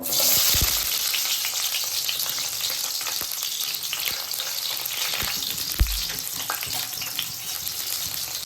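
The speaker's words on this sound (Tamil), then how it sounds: "எண்ணெய் காயும் கொஞ்சோண்டு சின்ன வெங்காயம் பச்சை மிளகாய் வச்சுருந்தேன், அதை போடுறேன்." Small shallots and green chillies hit hot oil for sambar rice, giving a steady, close frying sizzle that runs throughout with a few sharp clinks and pops.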